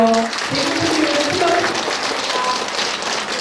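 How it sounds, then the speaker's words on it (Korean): Applause from a congregation at a Buddhist dharma service rolls on steadily as a dense, moderately loud wash of clapping, with a voice and some tonal sounds mixed in over the top. "대구에서 오신 분들 일어나셔서 박수를 받아주십시오"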